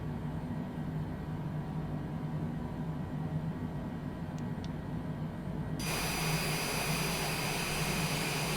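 A Cessna Citation Longitude jet engine starts up in a flight simulator, a steady low rumble that suddenly swells into a loud broadband whooshing roar partway through, with two faint clicks before it.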